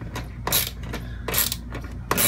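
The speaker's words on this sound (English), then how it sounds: "Just tightening up the bolts here" Ratchet wrench tightening bolts while installing a third air conditioner on a 2017 Forest River Sandpiper 381RBOK fifth-wheel RV: several short, close clicking bursts of ratcheting separated by brief pauses, with no talk.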